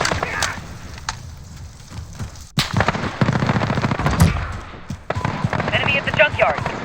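Video game gunfire crackles in bursts and single sharp shots, loud and close, with voices shouting over the battle.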